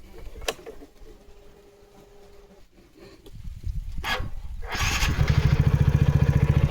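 An old motorcycle being kick-started: a few mechanical clunks and kicks, then the engine catches and settles into a loud, steady, rapid thumping run close by.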